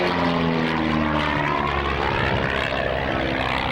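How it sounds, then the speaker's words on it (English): An Edge Red Bull air race propeller plane flies at an RAF Marham airshow, its engine a loud, continuous droning roar with shifting pitch as it passes, no voices over it. "The Edge is a well-known Red Bull air race plane, seen today forming."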